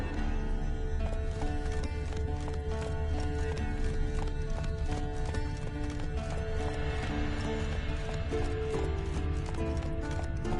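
Roach the horse gallops through The Witcher 3 game world, a rapid, continuous clip-clop of hooves close up, with a whinny and steady game music running underneath.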